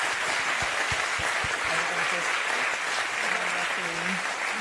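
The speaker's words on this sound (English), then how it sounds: "another very big round of applause" Applause from the audience at the close of an artist talk with Marina Abramović at the Beyeler Foundation, steady dense clapping filling the room for several seconds, with faint voices or tones mixed underneath.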